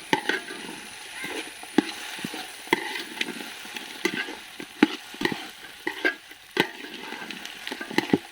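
Fried chicken being stirred into masala in a pan, with repeated scraping and clattering strokes of a spoon at an uneven rhythm over a soft, steady sizzle.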